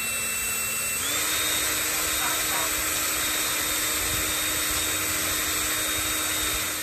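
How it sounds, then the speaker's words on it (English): A small wire wheel on a power tool whirs steadily while cleaning the removed brake caliper slide pins from a 2014 Toyota Tundra's front brakes, a continuous close, loud motor whine with a pitch rise early on and no talk. "We're going to clean those off with our little wire wheel."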